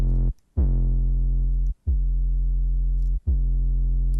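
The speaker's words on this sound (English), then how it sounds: "So I'm gonna go ahead and add some distortion." A sub bass sine wave pushed through distortion with the drive turned up plays as three sustained, loud, harmonically rich notes, each separated by a short gap of silence.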